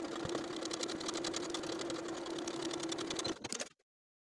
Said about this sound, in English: we're going to sew again from one side to the other right along those pre-existing stitches